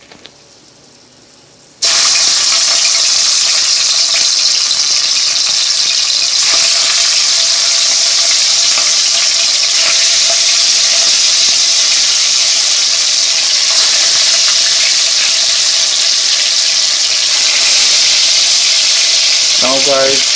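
Chicken pieces sizzle and fry steadily in a pot for a Jamaican curry chicken, a loud continuous crackling hiss that starts abruptly after a quiet moment and holds at an even level throughout.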